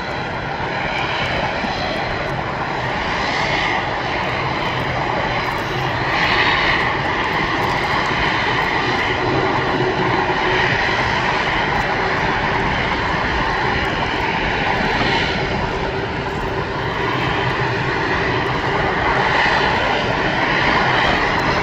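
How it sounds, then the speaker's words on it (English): A firefighting airplane's engines roar steadily and loudly as it rushes down the runway, a dense, unbroken drone with a slight swell partway through and no voices. "that looks like a fire plane too, and he's really rushing off the runway"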